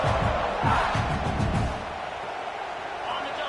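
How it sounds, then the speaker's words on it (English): Loud football stadium crowd roaring at a college game, a dense sustained wall of cheering that swells at first and then settles into a steady roar. "This crowd, full throat, spreading the eardrums and letting them know it's going to be a long day"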